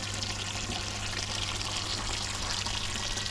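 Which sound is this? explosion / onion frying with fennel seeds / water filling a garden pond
water filling a garden pond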